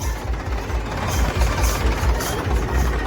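A line of tractors rolling in a religious procession, a steady low engine drone with rumbling idle pulses, continuous and fairly close, with no other clear sounds over it.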